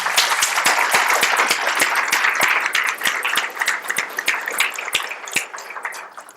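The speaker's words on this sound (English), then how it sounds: "Please give a round of applause to our panelists." Audience applause for panelists at a town hall forum, a steady wash of many hands clapping at full volume for about six seconds, then thinning slightly toward the end.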